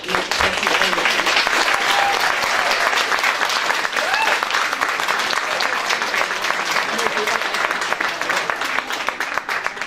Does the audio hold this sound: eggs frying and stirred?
no